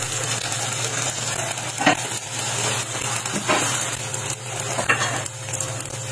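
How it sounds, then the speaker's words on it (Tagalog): Tofu lumpia spring rolls frying in hot oil in a pan, a steady close crackling sizzle with occasional light pops and utensil clinks, no voices. "Sa isang pan naman ay nagpainit ako dito ng sapat na mantika at ipinirito ko na ang mga lumpia."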